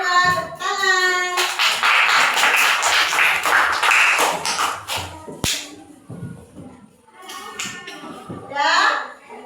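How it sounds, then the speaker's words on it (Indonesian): Students in a classroom break into a burst of clapping for a group, with children's voices over it, then the applause fades into scattered claps and chatter before rising again briefly. "Tepuk tangan."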